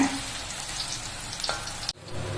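Ingredients sautéing in ghee for a jackfruit payasam, with a dense, close, continuous sizzle and occasional stirring taps that end in an abrupt cut.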